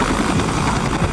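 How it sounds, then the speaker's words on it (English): A lone helicopter flies in at night over a dark city, its rotor thudding loudly and steadily as a dense, continuous roar close by. "As midnight approaches, hospital staff hear the sound of a lone helicopter."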